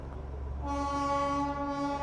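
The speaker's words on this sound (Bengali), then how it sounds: "দার্জিলিংয়ে এসে এরকম টয় ট্রেনের সামনে দিয়ে থাকা একটা আলাদাই" A Darjeeling toy train sounds its horn, a steady tonal toot that starts partway through and holds to the end over a low rumbling background.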